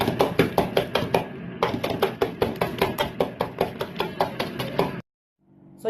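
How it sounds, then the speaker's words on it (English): A bundled ewedu broom beats boiled ewedu leaves in a pot for Yoruba ewedu soup, making a fast, steady run of close wet tapping strokes that stops abruptly, followed by brief quiet. "Now I'm going to be using the Ewedu broom."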